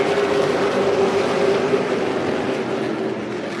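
Pro Late Model race cars at Irwindale Speedway roar together as the field takes the green flag, a dense, steady engine drone with a sustained tonal hum, loud and continuous with no voices.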